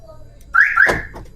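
A Toyota Hiace Commuter van alarm gives a single short electronic chirp-siren on locking, sounding close and clear over quiet background noise.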